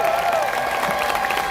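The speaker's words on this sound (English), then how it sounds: "Give a round of applause for Emily and Linnea." Applause from the audience at an outdoor drag rally on John-F.-Kennedy-Platz, a steady patter of clapping from a moderate crowd at some distance, lasting a moment.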